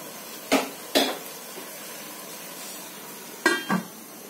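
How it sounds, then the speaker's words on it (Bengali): Boal fish cooks in a pan under a low sizzle, broken by a few sharp metallic clinks of a lid being set on the pan, two near the start and two more a few seconds later. "এখন ভালোভাবে কষানো হওয়ার জন্য আমি একটু ঢাকনা দিয়ে ঢেকে দিচ্ছি"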